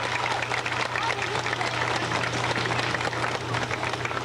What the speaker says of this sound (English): Halifax area band parents, let's give them a nice round of applause.